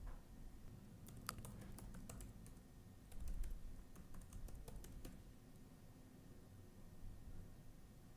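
Quiet keyboard typing while entering a user ID and password, bursts of light clicking keystrokes over a low steady background hum, no talk.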